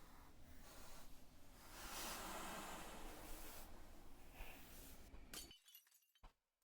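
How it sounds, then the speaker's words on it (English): A glass window shatters into a sustained, noisy crash of breaking glass, with shards scattering and tinkling for several seconds before a few last pieces fall into quiet. The sound is faint overall. "Shards of glass gush into the room."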